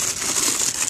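Green tissue paper crinkling as a box of Lebron 10 Dolphin shoes is opened, a close, loud rustle that crackles continuously for a moment.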